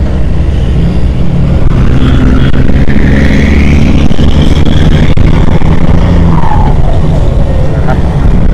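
Ten-wheel dump trucks race along a dirt road on an airfield construction site, their heavy diesel engines roaring loudly and continuously, with rising and falling engine pitch as they accelerate and pass.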